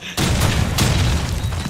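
A grenade blast in a competitive team shooter match, a sudden loud boom that rolls into a sustained rumbling roar with a second burst partway through, close and dominant with no talk over it.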